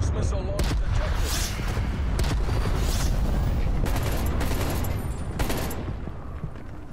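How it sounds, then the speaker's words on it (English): Explosions from a cruise missile strike in the multiplayer shooter Call of Duty: Black Ops Cold War, a sustained dense barrage of booms and crackling blasts with scattered gunfire, loud throughout. "Enemy cruise missile launch detected."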